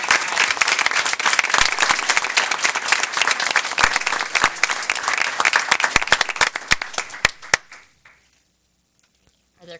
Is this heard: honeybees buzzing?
no